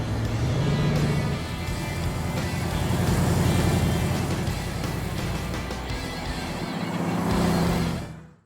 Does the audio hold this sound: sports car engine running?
yes